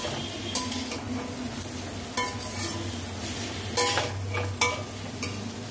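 Potato and bitter gourd are stir-fried in a pan: a constant sizzle broken by repeated scraping and clinking as a utensil stirs the pieces, close and moderately loud.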